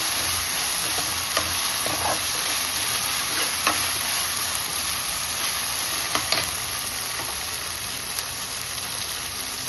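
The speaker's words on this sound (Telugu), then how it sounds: "2 స్పూన్ల అల్లం ఎల్లిగడ్డ వేయాలి. ఇది కొంచెం వేగినాక" Ginger-garlic paste frying in hot oil for boti fry, a steady broadband sizzle throughout with occasional sharp pops and faint stirring scrapes, close and even in level, with no talking.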